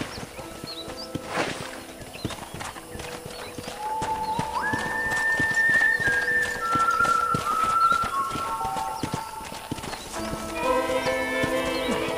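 Horse hooves clip-clop steadily through Red Dead Redemption on a ranch ride, a close, even rhythm of hoofbeats with a whinny early on and game music rising over it.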